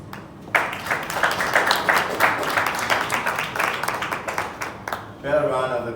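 An audience gives a round of applause at a public event: scattered, rhythmic claps that rise and fall for several seconds. A voice starts speaking near the end as the clapping fades.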